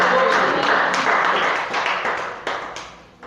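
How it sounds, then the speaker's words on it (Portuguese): A church congregation applauding at a Wednesday evening service, a dense wash of claps that swells and then thins out, with a few sharper individual claps near the end. "Aplaude e glorifica esse Deus se você crê na presença dele."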